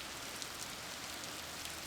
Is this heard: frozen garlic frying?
no